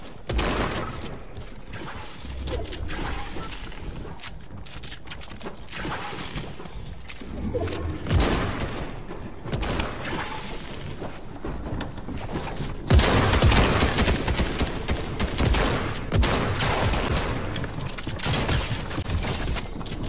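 Gunfire in Fortnite Zone Wars, with dense volleys of sharp shots and bursts in fast succession and heavier impacts in the later half, all loud and close.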